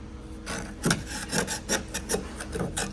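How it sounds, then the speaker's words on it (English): Old seam sealer being chiseled out of a car body during a 1955 Chevrolet Bel Air restoration: a quick series of close, scraping rasps in an uneven rhythm, with no talking. "process of chiseling out this old seam sealer, getting it all clean"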